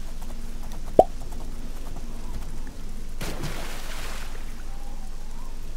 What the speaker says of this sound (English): I love the pop sound effect. Like a cork popping.